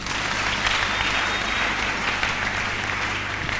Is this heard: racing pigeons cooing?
no